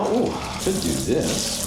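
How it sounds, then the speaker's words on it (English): Cold tap water runs steadily into a sink as it fills, a close, continuous splashing rush with a person talking briefly over it. "And I'm gonna go ahead and start filling the sink up."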